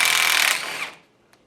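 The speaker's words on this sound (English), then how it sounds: "now we're going to pop this nut off" A power tool whirs loudly for about a second, taking the strut nut off a 1993-2002 Firebird Trans Am front strut, then cuts out abruptly and leaves a faint click.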